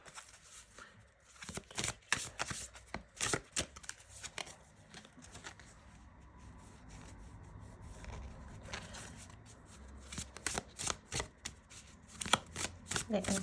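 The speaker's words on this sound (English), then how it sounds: "They are so big, it's just so hard to shuffle." Large tarot cards are shuffled in bursts of papery riffling and slapping, some quiet pauses between, with soft talking faintly underneath.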